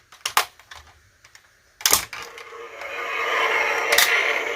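Plastic part of a 1995 Tonka X-Wing toy snapped into place by hand, with sharp close clicks and clacks of plastic, then a sustained rustling scrape of handling.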